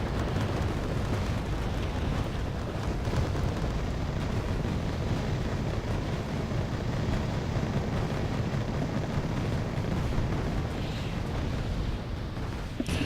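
Continuous battlefield rumble from the Wargame Airland Battle strategy game, with cannon fire and explosions blending into a dense, loud, unbroken roar with scattered heavier impacts.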